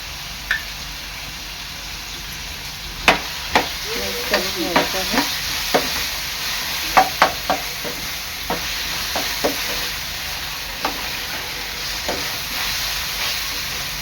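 Potato sautés in oil in a pan with a constant steady sizzle, punctuated by irregular sharp spatula taps and scrapes against the pan, loudest in a cluster around the middle.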